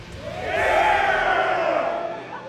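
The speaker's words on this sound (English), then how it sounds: "Why do the Ann Coulter fans all sound male" A large crowd roars and cheers at Politicon, swelling to a loud, sustained shout before tapering slightly, heard from within the audience.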